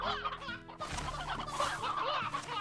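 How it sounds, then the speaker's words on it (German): Chickens in the video game Slime Rancher cluck in quick, overlapping bursts at moderate level, a busy stretch of fowl chatter with no voices over it. "Wir haben ja zwei Hühner, drei sogar."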